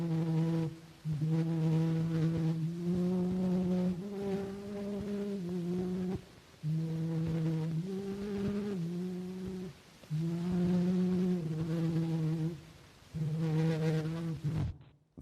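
An 1860 phonautogram recording of Au Clair de la Lune, pitch-adjusted downward, plays as a thin, buzzy sung melody in sustained phrases separated by short gaps, with a hissy, mechanical tone.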